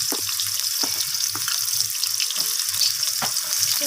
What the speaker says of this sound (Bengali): তো তেলটা এখানে গরমও হয়ে এসেছে। এখন আমি এখানে কেটে রাখা সজনে ডাঁটা দিয়ে